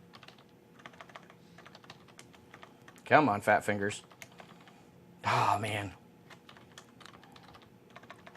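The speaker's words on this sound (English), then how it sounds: "I'm going to stop typing." Fast bursts of typing on a computer keyboard, close and clattering, with someone speaking briefly between and over the keystrokes.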